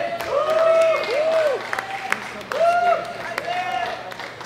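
Crowd applause at a junior women's world classic powerlifting championship medal ceremony, steady clapping from the hall while an announcer's amplified voice speaks over it.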